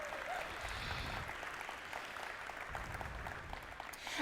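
A keynote audience at a tech conference breaks into sustained applause, a soft, even wash of clapping that sounds distant and fairly faint throughout.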